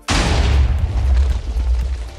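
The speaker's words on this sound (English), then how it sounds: "To begin my little test, I decide to fire 20 shots and collect the results." A Minecraft TNT artillery cannon fires once with a loud, close boom that rolls on into a long rumbling decay.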